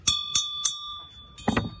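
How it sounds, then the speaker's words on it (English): A ring bell at a professional wrestling event is struck three times in quick, evenly spaced bright dings, followed by a duller double knock. The strikes are close and clear, with no talking over them. "Ring the bell."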